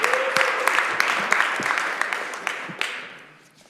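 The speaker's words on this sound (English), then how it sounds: "so let's give him a round of applause." City council meeting audience giving a round of applause, a lively burst of many hands clapping that gradually fades out toward the end.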